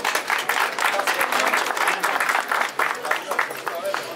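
Sustained audience applause at a lamb-shearing festival in Beytüşşebap, dense steady clapping from a crowd honoring the winner, loud and continuous throughout with no talk.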